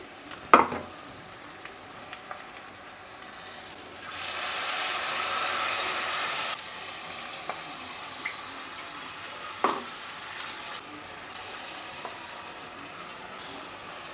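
Ground masala paste for a soya matar kheema sizzling as it is sautéed in a pan, a soft steady fry with a louder burst of sizzling in the middle and occasional clinks of a spoon against the pan.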